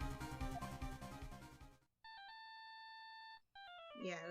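Cell phone ringtone from the game Phoenix Wright: Ace Attorney - Justice For All: after a burst of busy music, a steady electronic ringing tone holds for about a second and a half, then a short chirping jingle begins.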